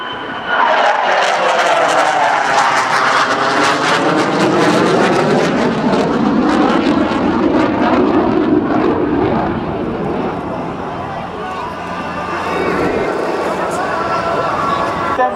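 F-18 fighter jet landing at an air show, a loud sustained jet roar with a sweeping pitch shift as it passes close by, under a commentator's voice.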